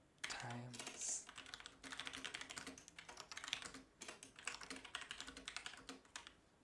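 Fast, continuous typing on a computer keyboard, close and fairly loud, with dense clicky keystrokes running steadily through the stretch and brief pauses between bursts.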